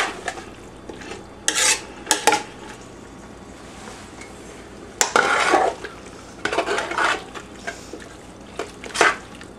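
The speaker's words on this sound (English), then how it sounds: "As this is cooking along, what you want to do is kind of help it by mashing your vegetables." Eggplant and vegetables being mashed and stirred in a cooking pan, with intermittent scraping and clanking bursts of a utensil against the pan over a soft background sizzle, close and moderately loud.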